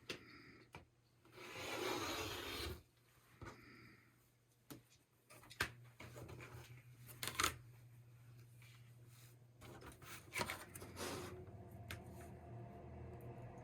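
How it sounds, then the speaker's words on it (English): Scissors trim excess fabric and fusible interfacing from the edge of a t-shirt quilt block, giving quiet snips and rubbing, rustling passes near the microphone, interrupted by short pauses. "I'm going to cut the excess off so the adhesive isn't sticking out"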